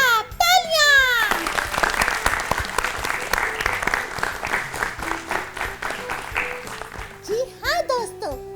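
Children in a classroom-style audience clap loudly and rapidly after a right answer, the brisk applause rising under a child's and an adult's voices before fading into speech.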